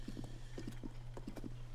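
Hoofbeats of a galloping horse in The Legend of Zelda: Tears of the Kingdom, a quick steady clip-clop rhythm over a constant low game hum, fairly quiet and with no talk.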